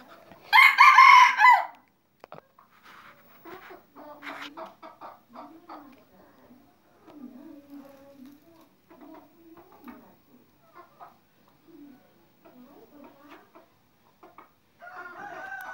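Chickens kept for bird-catching decoys, a hen with her chicks, give a loud burst of crowing near the start, followed by scattered soft clucks and calls close by, with a brief call again at the end.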